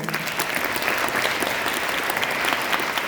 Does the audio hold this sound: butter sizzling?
no